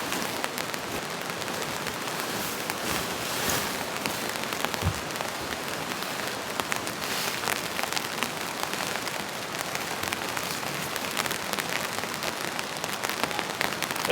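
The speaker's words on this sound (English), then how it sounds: "the rain's not super heavy" Steady light rain patters on a tent and surrounding ground at a solo campsite, a continuous even hiss with scattered drops and no voices.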